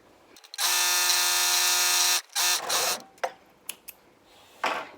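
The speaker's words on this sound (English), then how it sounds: "I don't necessarily need to overlock this edge because it won't fray, but I like how it looks" An overlocker trims and finishes the edge of a stretch fabric in a loud, steady buzz lasting about a second and a half, followed by shorter bursts and clicks as the fabric is handled.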